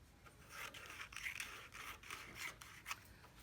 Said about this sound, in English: I'm going to cut the corners off, leaving just a little teeny tiny bit there